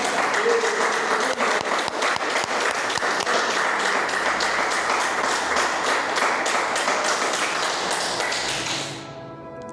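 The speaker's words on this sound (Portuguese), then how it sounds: "Vamos aplaudir o Senhor por isso?" Church congregation clapping together in rhythm, loud and sustained for about nine seconds before trailing off at the end.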